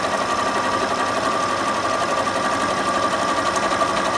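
A Bernette b37 sewing machine runs steadily while stitching fabric, giving a continuous, even mechanical whir with a fine rapid needle rhythm at close range and no talk.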